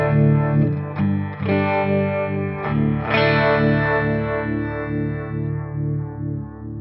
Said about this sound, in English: There is a univibe in this patch.